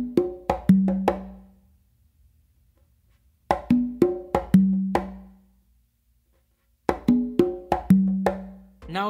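Congas play an Afro beat in three repeated bursts of quick hand strokes. Sharp slaps and ghost taps lead into a ringing, deeper open tone, with short pauses between phrases. The drums are close and loud, with no voices.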